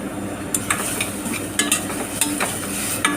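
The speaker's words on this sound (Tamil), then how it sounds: "நல்லா வதக்கிடுவோம்." Steady frying sizzle from a pan of onions sautéing with turmeric and chili powder for tuna biryani, with several sharp scrapes of a spoon stirring, close and fairly loud.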